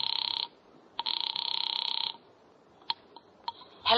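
Old telephone bell ringing in two long electric trills with a pause between, followed by faint clicks and the start of another ring, for a call placed from a phone booth.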